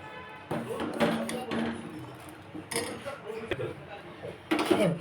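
A spoon stirs thickening kheer custard in a metal pot, making light scraping clinks and taps in uneven bursts, fairly close, while someone talks over it.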